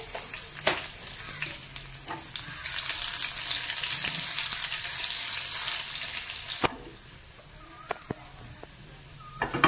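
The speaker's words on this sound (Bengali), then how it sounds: "আমি কালো জিরে দেবো পাবদা মাছে, আর একটা শুকনো লঙ্কা, আর এই রসুনটা একটু ভাজা করে নেব" Garlic, black cumin seeds and a dried red chilli frying in hot oil for a pabda fish bhapa tempering, a loud close sizzle that swells and then drops away sharply, with a few clinks and faint bird calls.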